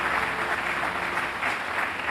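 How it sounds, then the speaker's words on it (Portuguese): Church congregation applauding together during a communion service, a dense, even wash of clapping that stays steady and fairly loud throughout, with no voices over it. "Vamos aplaudir o Senhor?"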